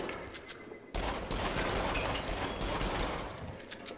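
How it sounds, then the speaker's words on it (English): Gunfire in the PSVR shooter Rush of Blood, a dense sustained burst of rapid shots starting about a second in after a quieter stretch, loud and continuous until fading near the end. "Help shoot those boards out of the way."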